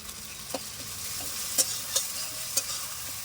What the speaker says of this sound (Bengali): ভালো করে নেড়ে চেয়ে নেবো এবার রসুন আর আদা বাটা একসঙ্গে দিয়ে দেবো